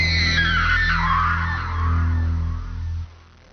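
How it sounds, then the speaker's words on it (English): A woman screams in a 1995 Zorro full-motion-video game cutscene, one long, loud, piercing cry lasting about three seconds over a steady low musical drone, ending abruptly. "We heard the scream and rushed in and found Annabella unconscious on the floor."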